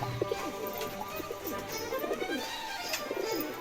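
A pigeon coos repeatedly at a loft during flight training, soft throaty calls in a steady rhythm, moderately close, with a faint background hum.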